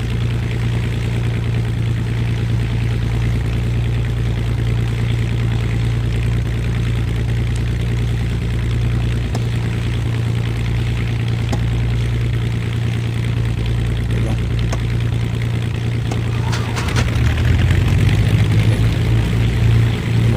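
Right propeller engine of an aircraft starting and idling in the X-Plane 10 flight simulator, a loud, steady droning hum with a constant low tone that rises slightly in pitch and loudness near the end.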